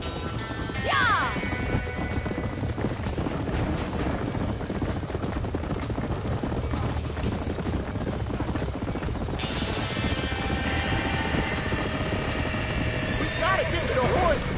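Horses trapped in a burning barn in the video game Red Dead Redemption neigh and whinny shrilly, with hooves clattering and wood crashing amid a dense roar of fire, while people shout over the din.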